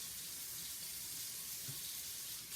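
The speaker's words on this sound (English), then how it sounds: "let me just wash my hands." A kitchen tap runs steadily for hand washing while a chocolate cake is being made, a constant hissing splash close by with no speech.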